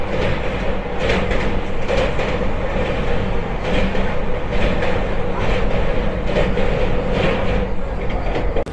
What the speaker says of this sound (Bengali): আমাদের ট্রেন বন্ধুরা এখন কটক জংশনে এসে দাঁড়ালো